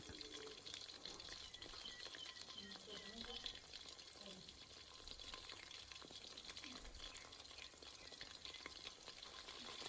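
Battered chicken pieces frying in hot oil give a steady, close crackling sizzle throughout, with a voice talking faintly over it.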